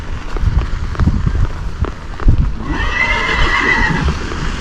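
A Tennessee Walking Horse clops its hooves in a steady walking rhythm, then lets out a loud, drawn-out whinny close by, with no voices heard.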